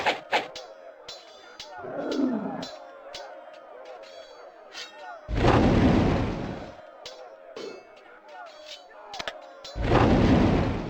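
Artillery fire in the Warhammer: Shadow of the Horned Rat video game, with two heavy, broad booming blasts several seconds apart over a busy battle backdrop of scattered clatter and shouting voices.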